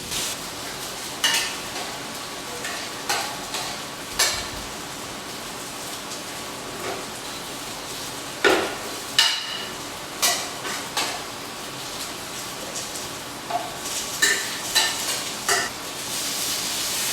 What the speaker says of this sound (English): The more you mix, the better it gets.